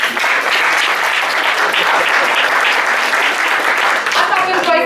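An audience claps in a loud, continuous burst of applause that fills the whole stretch evenly, with faint voices mixed into the clapping.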